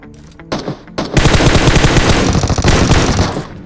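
Loud, rapid automatic gunfire from bots in a video game, starting with a few scattered shots and then becoming a dense, sustained burst of close machine-gun fire.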